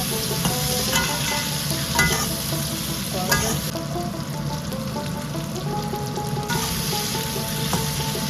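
Cut potatoes and cauliflower are stirred in a frying pan with turmeric and salt, a loud steady sizzle under repeated scraping strokes and light clinks of the spoon.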